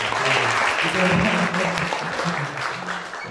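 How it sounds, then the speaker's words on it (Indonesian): Audience applause for the MC at an Indonesian youth entrepreneurship talk event, a loud sustained burst of many hands clapping with crowd noise and a few voices mixed in, easing slightly toward the end. "tepuk tangan dulu buat MC"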